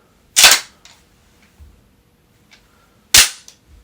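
A pistol slide is sent home, two sharp loud metallic snaps about three seconds apart, close up, with light handling clicks between them.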